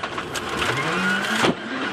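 A Citroën WRC rally car on a special stage at Rally Mexico 2014 passes close by, its engine rising and dropping in pitch as it revs hard through the gears.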